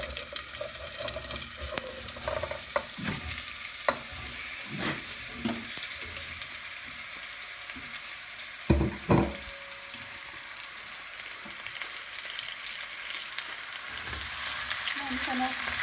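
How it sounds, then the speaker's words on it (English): Potatoes dropped into hot oil for a simple Gujarati potato curry, bursting into a loud sizzle with several clattering stirs and spoon knocks against the pan, the frying hiss running steadily underneath. "I'm going to add the potatoes in."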